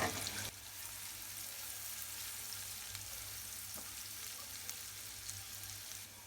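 Chopped onion fries in oil in a pan for a taro recipe, giving a faint, steady sizzle that continues evenly throughout.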